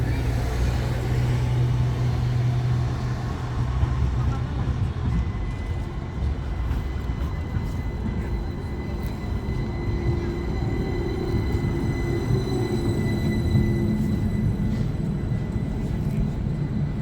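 Riding inside a tram in Seville: a steady loud rumble and rolling hum of the car on rails, with high whining tones rising as it moves, and brief voices now and then.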